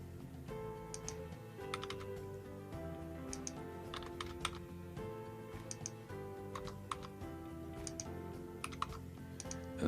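Quiet, steady keystrokes on a computer keyboard while data goes into a spreadsheet row, heard as a faint ticking patter under a sustained musical bed with no talking.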